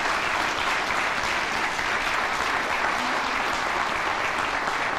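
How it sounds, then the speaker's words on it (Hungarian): Steady, dense applause from a crowd at an October 23rd commemorative ceremony and wreath-laying, continuous and fairly loud throughout without any speech. "egy nagy tapsot még egyszer megérdemelnek"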